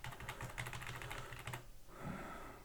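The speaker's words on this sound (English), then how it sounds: "pressing A on your keyboard" Typing on a computer keyboard while coding in Python, a quick run of close, crisp keystrokes for about a second and a half, followed by a quieter pause and a softer final clack.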